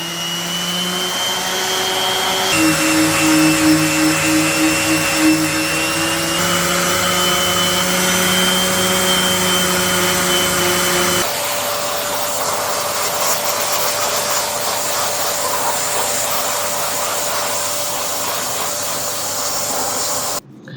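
A loud, continuous whirring hiss of a power sander runs steadily with a high motor whine, shifting pitch slightly as it moves across a walnut slab.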